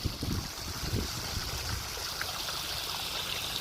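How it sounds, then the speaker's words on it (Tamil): Irrigation water runs steadily along a channel in a farm field, making a continuous close rushing and trickling sound with no voices. "பாருங்கள் தண்ணி எப்படி பாயுதுன்னு பார்த்தீங்களா"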